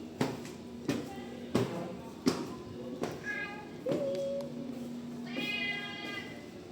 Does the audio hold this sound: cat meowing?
yes